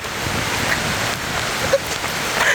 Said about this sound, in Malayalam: ഗായ്സ് മഴ പെയ്തു ഗായ്സ്.